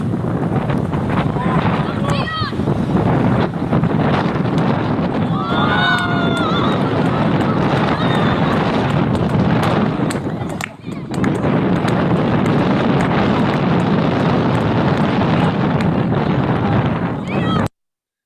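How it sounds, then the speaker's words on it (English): Loud, continuous wind buffeting the microphone on a cold, windy day in Windsor, a rough roaring rumble throughout with a brief dip partway, and faint voices in the background. "So that's a cold, windy day in Windsor many years ago when young Mason G"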